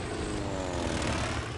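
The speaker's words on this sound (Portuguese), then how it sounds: "os americanos enviaram vários esquadrões de aviões torpedeiros e bombardeiros" Propeller-driven World War II torpedo bombers and bombers fly overhead in a sustained droning roar of piston engines, steady and full, with no voices.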